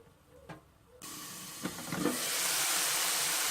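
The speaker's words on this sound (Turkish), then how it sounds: "Gördüğünüz gibi biberlerim kavruluyor." Bell peppers sautéing in a covered pan over low heat on a stovetop; a soft tap and clatter, then a steady broadband sizzle and hiss that swells and holds, close and moderately loud.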